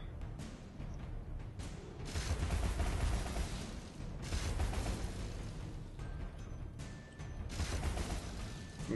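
Cannon crab enemy firing in the video game Alice: Madness Returns, a dense run of loud blasts and booming gunfire-like bursts with clanking mechanical noise, continuous throughout with no talk.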